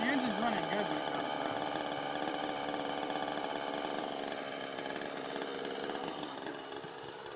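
Helicopter engine running smoothly before a hover, a steady buzzing drone with a wavering pitch early on, with people talking over it.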